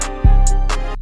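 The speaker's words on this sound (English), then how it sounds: "Now with 808s there is a simple kind of pattern you can do" A simple 808 bass pattern is programmed in FL Studio, playing a deep booming sub-bass hit under crisp hi-hat ticks. The pattern is short, loud and punchy.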